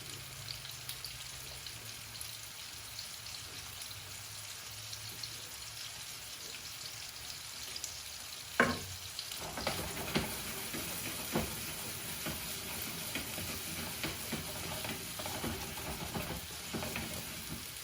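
Meatballs frying in a pan for paprika meatballs: a quiet crackling sizzle that turns busier after a sharp clatter partway through as the pan is shaken, with scattered pops continuing close by.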